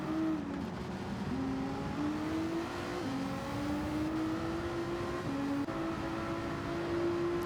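Race cars lapping Suzuka in Gran Turismo 7, a modified road car battling a Ferrari, Mustang and Hyundai, with engines droning and revving steadily throughout, pitch climbing through gears and dropping at shifts, loud and continuous with no talk.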